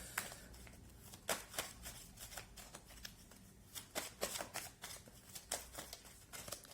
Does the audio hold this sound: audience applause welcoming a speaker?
no